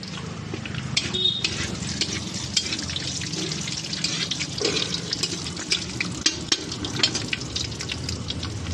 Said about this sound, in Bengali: তেলটা আমার গরম হয়ে এসছে, তেলের মধ্যে ওটা শুকনো লঙ্কা দিয়ে দিলাম আর তেজপাতা দিয়ে দিলাম